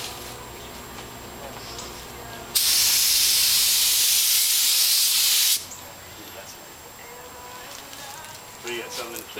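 A paint sprayer hisses steadily for about three seconds as it lays a third coat of Black Widow bottom paint onto a boat hull, loud and close, then cuts off abruptly to quieter background.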